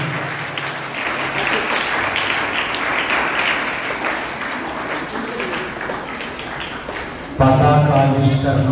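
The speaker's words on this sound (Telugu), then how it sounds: "గట్టిగా చప్పట్లు కొట్టాలి" Loud, sustained applause from a congregation fills a church during a feast-day Holy Mass, a dense even clatter of many hands continuing throughout, with a sudden swell near the end where voices and a tonal, music-like sound join the clapping.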